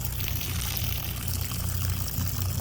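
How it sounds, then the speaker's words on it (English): Dirty green carpet-cleaning water pours out in a steady, continuous gush, close and even throughout. "that's a dirty water dump"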